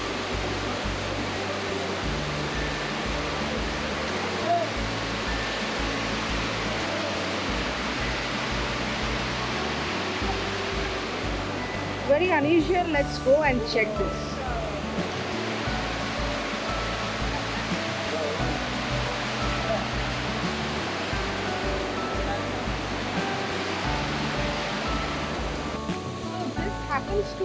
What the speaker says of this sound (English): So this happens to be some stream from where the water is coming and then just flowing this way.